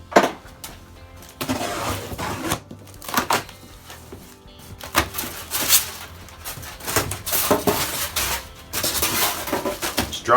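A knife slicing and tearing open the cardboard boxes of a Camp Chef flat top grill, with irregular close rustles, scrapes and thumps of packaging being handled.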